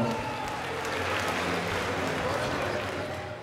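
Dense crowd applause fills an arena at a kickboxing and MMA event as a 97 kg fighter from Plovdiv is introduced in the ring, steady and fairly loud with a voice faintly underneath.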